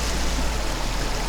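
Calm water flows in a steady, close wash of broadband rushing, unbroken and even throughout, with no voices.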